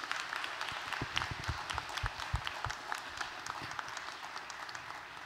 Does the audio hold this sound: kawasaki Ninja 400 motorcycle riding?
no